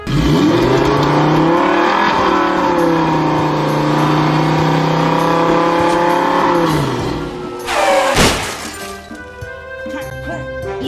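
A golden vehicle's engine revs loudly and steadily in a video game for several seconds, then a sharp crash-like burst, followed by a lighter, wavering engine drone.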